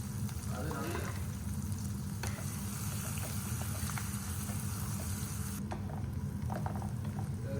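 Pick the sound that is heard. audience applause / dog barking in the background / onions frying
onions frying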